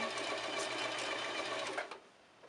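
A sewing machine runs steadily, stitching a Halloween costume dress, a close and continuous whir that stops abruptly near the end.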